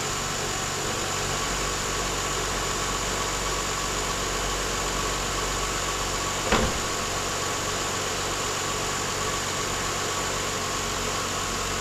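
A 2004 Lexus IS300 sits idling and warming up after timing belt service, its engine giving a steady, even hum at close range, broken by one brief knock or click partway through, with no talking.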